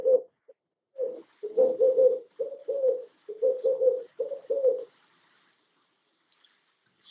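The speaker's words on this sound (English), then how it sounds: "Councillor Gous, I couldn't recognize the kind of bird I was hearing" Pigeon or dove cooing during a municipal council meeting in Mossel Bay: a steady run of about seven low, rhythmic coos over five seconds, fairly close and clear, then near silence with a few faint high chirps.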